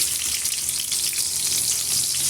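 Chopped large onion fries in hot oil in a pan, a dense, steady close-up sizzle with no voices.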